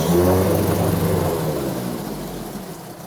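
A 1979 Johnson 9.9 hp two-stroke outboard motor running steadily at idle during a tank test, a loud, close, continuous low engine drone that eases slightly toward the end.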